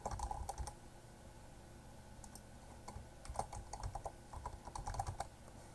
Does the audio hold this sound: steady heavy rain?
no